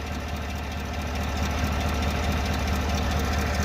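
A 6.2 litre engine idling with a steady rumble and a rapid ticking knock, like a rod or lifter, running continuously and close, slightly louder in the second half.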